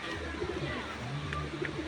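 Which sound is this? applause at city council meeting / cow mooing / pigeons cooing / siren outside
pigeons cooing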